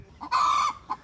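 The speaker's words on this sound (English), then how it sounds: "the chickens got out!" Chickens on a homestead, a rooster letting out one loud, near crow between short clucks, with no one talking.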